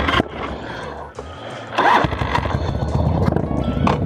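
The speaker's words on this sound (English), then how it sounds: "That backfire sounded like a shotgun going off." A Harley-Davidson FXR motorcycle engine runs and rumbles, with a sharp backfire bang amid rough, uneven revving heard up close.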